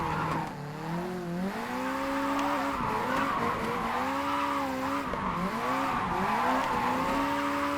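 Car drifting in the video game Japanese Drift Master, continuous tire squeal that wavers in pitch through the slides over a revving engine, loud and close with no talk.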